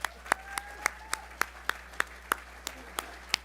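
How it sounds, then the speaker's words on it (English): Audience at a USC men's basketball press conference introducing coach Eric Musselman claps in sharp, separate beats, about a dozen evenly spaced claps ringing out clearly over a quiet room. "oh, I love the claps"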